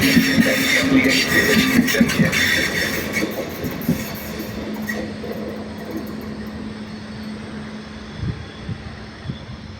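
Trains at Padova railway station: a steady rumble of rolling stock with clicking wheels and a mechanical whine, close and sustained, then fading toward a quieter station backdrop.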